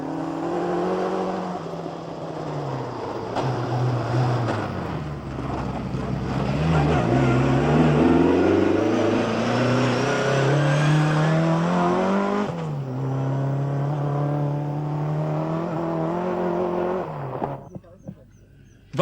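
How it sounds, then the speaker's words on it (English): A Toyota rally car creeping slowly over a rocky African road in the 1985 Ivory Coast Rally, its engine droning and revving close and loud with shifting pitch, then cutting off near the end, with a voice speaking over it. "Kankkunen picks his way cautiously through the rocks and deep holes."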